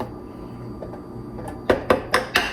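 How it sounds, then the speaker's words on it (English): A spoon stirs cranberry apple butter in a crockpot, giving four sharp, evenly spaced clinks near the end after a quiet, low background hum. "Give it a good stir."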